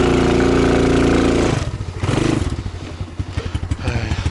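A motorized all-terrain vehicle engine labors loudly while climbing a slope through a log-strewn area, a steady roar giving way to a rhythmic chugging pulse that stays close and dominant.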